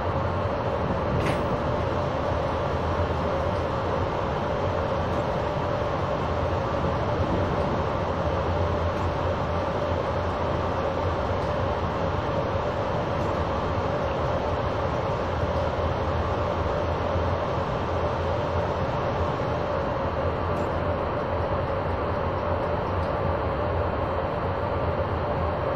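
A model train runs into a station on a layout, giving a steady, unbroken mechanical hum and whirr with a faint tonal whine throughout, with no voices.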